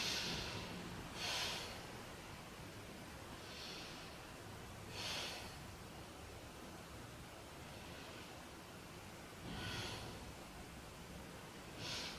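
Slow, deep breaths drawn down into the belly during a beginner yoga stretch, each inhale and exhale a soft airy swell, roughly four breaths spaced a few seconds apart over a steady background hiss.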